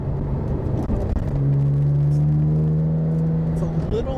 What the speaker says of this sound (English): A little boomy when you have that initial throttle input